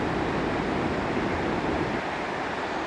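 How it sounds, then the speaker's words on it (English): Water cascading off Whitewater Falls makes a constant, broad rushing roar, steady and unbroken with no other sounds. "This is just water cascading off the falls"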